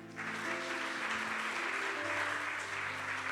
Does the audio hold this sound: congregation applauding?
yes